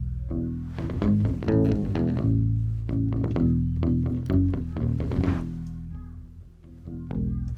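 Full-band music with a strong, steady low end, a deep bass line rolling under dense instruments and vocals throughout, loud and continuous.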